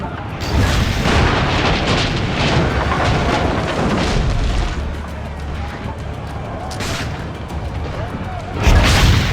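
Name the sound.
cannon fire in Assassin's Creed Brotherhood video game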